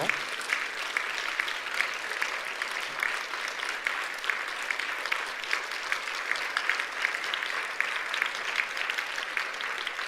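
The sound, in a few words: congregation applause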